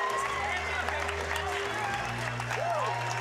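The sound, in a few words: crowd cheering after an MMA round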